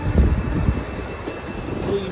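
A passenger train runs on rails, giving a steady, close rumbling roar heard from on board for the whole brief stretch, with no clear talk over it.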